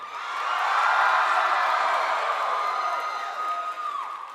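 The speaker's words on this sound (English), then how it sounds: "Everything I say, everyone just cheers all the time." A convention panel audience at PAX West 2017 cheers and whoops continuously, a broad steady roar of a large crowd that swells and slowly tapers, with no speech over it.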